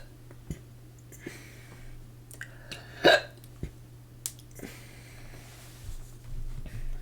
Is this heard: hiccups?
yes